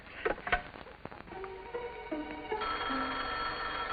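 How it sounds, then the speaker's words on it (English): An old telephone bell rings indoors, a few sharp taps giving way to a sustained jangling ring that carries through to the end, with no voices over it. "That's the phone."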